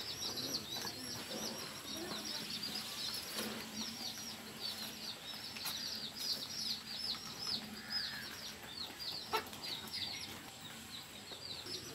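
Chickens being fed in the evening: steady faint bird chirps and calls at a distance, with occasional fluttering and clucking, no talk.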